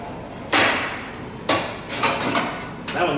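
Spot welder fusing small metal pieces in a workshop, a sharp crackling burst repeated four times at uneven intervals, each loud and close with a short decaying tail.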